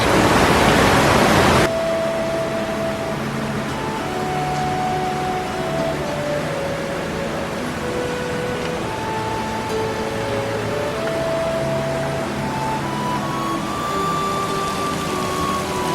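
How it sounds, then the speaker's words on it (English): Heard from behind the falling water, a waterfall in the Watkins Glen State Park gorge in New York gives a dense, unbroken rushing roar that stays loud and even throughout. "If you ever wonder what the back side of a waterfall looks like, this would be it."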